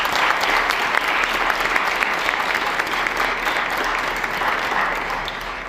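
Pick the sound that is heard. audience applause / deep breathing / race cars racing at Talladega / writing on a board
audience applause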